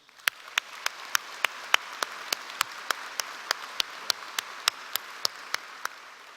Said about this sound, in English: let's give them our applause in appreciation for their service